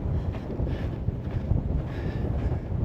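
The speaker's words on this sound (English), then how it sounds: "But this wind is quite strong." Strong wind buffeting the microphone on the Sgor Gaoith mountain summit, a loud continuous low roar with gusty surges throughout and no voices.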